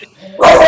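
A pet dog barks at a mail delivery, a sudden loud, close bark bursting in after a near-quiet moment, with a voice around it.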